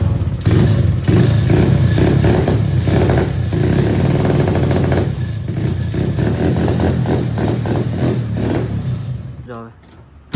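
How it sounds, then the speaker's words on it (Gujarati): A 1996 Hero Honda Splendor motorcycle, stripped of tank and silencer, starts and runs with a loud, steady rough engine drone and clatter throughout, fading out near the end. "હવે ચેક કરો ખાલી એક સ્ટાર્ટ."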